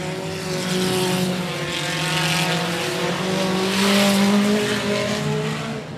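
Race cars lap the 105 Speedway track, a sustained engine drone that swells and fades as the field passes at middle distance, engines rising and falling in pitch over several seconds.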